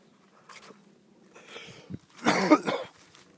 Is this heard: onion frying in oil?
no